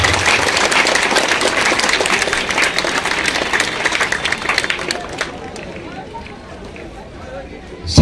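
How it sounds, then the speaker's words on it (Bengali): An audience at a school foundation day event opening a football academy breaks into loud, dense applause that holds steady before tapering into softer scattered claps and crowd murmur. "একটু হাততালি দাও"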